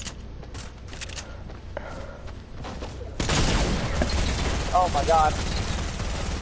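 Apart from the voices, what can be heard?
SMG gunfire in a video game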